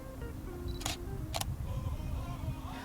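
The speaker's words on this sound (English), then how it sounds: "it's going to focus and fire the shutter" Shutter of a Canon EOS 650D (Rebel T4i) SLR camera firing twice in quick succession, two sharp, close mechanical clicks about half a second apart against a quiet room hum.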